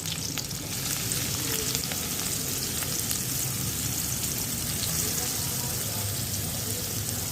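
Chopped ginger, garlic, small green chillies and the white part of spring onion fry over maximum heat, a continuous hissing sizzle with faint stirring clicks, steady and moderately close.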